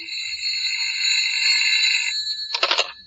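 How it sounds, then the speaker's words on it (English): An old-time telephone rings in a radio drama, a sustained electric bell tone lasting about two seconds followed by a shorter burst of rapid trilling, clear and close with no talk. "suddenly startled to attention by the ringing of my phone"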